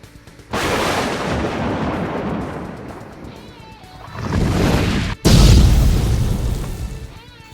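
Weapon fire in an animated Transformers movie: loud, sustained booming blasts with a heavy rumble, one swelling burst followed by a sharper, louder blast right after a brief cut.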